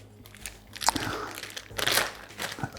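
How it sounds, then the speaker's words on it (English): Plastic bag crinkling in short, irregular bursts as it is fitted onto the filter box of a FEC & RAB Grip HE unit, close and fairly quiet, with a sharper crackle near the end. "attach the plastic bag to the filter box"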